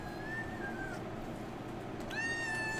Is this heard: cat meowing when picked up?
yes